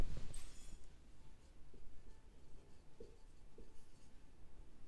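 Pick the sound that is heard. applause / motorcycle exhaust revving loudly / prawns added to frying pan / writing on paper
writing on paper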